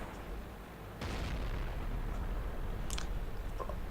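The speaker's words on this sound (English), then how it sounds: "this T-82 shooting his 105mm howitzer" Artillery fire from a T-82 with a 105mm howitzer in the World of Tanks game: a deep muffled boom lands after a second of rumbling background, followed by faint distant crackles.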